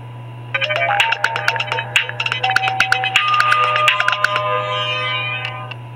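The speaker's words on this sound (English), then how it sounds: "And the phone powers on." A mobile phone powers on and plays its startup tone, a bright, close and fairly loud electronic jingle of rapid chiming notes lasting about five seconds, over a steady low electrical hum.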